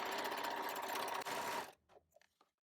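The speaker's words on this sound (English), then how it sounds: "add a tiny design accent by stitching a narrow green strip on one edge of each cushion" A sewing machine stitches a narrow green strip onto the edge of cushion fabric, a fast dense whir running steadily, then stopping abruptly and leaving a few faint handling clicks.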